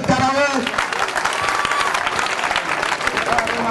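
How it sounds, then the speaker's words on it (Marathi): Clapping from villagers at a meeting welcoming the village women, steady dense applause filling the whole stretch with crowd murmur and some voices underneath. "सर्व महिलांचं टाळ्या वाजून त्यांचं आपण सर्वांनी स्वागत करावं"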